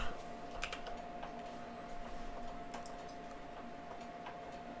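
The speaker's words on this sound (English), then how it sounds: "we're going to type" Steady typing on a computer keyboard, with quick light key clicks in an irregular rhythm under a faint constant hum, heard close and alone.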